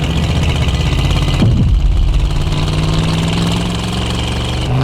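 Car engine in the Drive Beyond Horizons video game running steadily and loudly, a low droning hum with a brief surge partway through and no talk over it.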